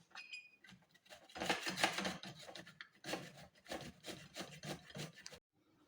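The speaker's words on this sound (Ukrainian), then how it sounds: "Натираємо чесник на мілкої тертки." Garlic rubbed against a fine grater in a home kitchen, giving close, steady rasping strokes in repeated bursts with brief pauses, loud and alone.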